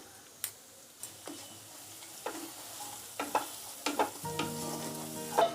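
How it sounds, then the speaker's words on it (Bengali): Onion paste and chili powder frying in a pan give a soft sizzle under repeated scraping and tapping stirring strokes that grow busier and louder toward the end, with no voices. "এবার পেঁয়াজ বাটাটা দিয়ে দিলাম।"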